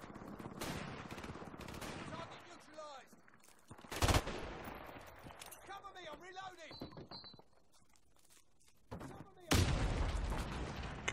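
In Call of Duty 4 Modern Warfare Remastered, sharp sniper rifle cracks and scattered gunfire ring out in a few loud isolated bursts, with a voice talking between the shots.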